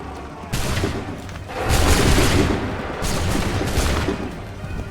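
Musket volleys fire in an Assassin's Creed III battle, loud bursts of massed gunfire with booming crackle rising around 0.5 s, peaking near 2 s and again near 3 s, no talk.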